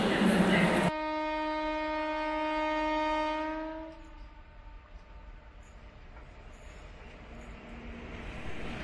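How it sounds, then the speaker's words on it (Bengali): The Howrah–Bolpur Intercity Express sounds one long, steady horn blast on departure, which fades after a few seconds into the low rumble of the moving train. "ট্রেন ছাড়ার সে চেনা হুইসেল"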